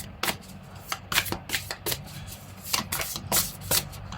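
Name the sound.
shuffling oracle cards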